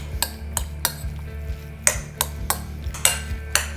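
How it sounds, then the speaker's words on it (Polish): Diced salmon and cucumber being mixed in a bowl, with a series of sharp clinks of a utensil against the bowl about every half second over a low hum. "I wszystko razem ze sobą mieszamy"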